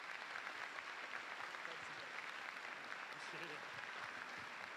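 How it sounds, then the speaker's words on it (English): A school assembly audience at Louisville High School claps in a continuous round of applause that sounds distant and fairly faint, with a steady crowd texture and no pauses. "Let's give him another round of applause."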